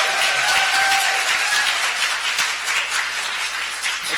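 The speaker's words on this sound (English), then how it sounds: "let's try to keep the applause down" A debate audience applauds, steady dense clapping filling the room at high volume and holding evenly throughout, with no voices standing out above it.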